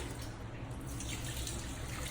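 Warm tap water runs steadily while a rescued puppy is being washed, a continuous faint splashing stream with no voices.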